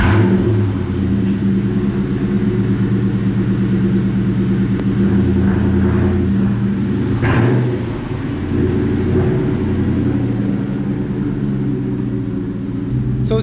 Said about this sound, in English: let's go ahead and get a cold start for you.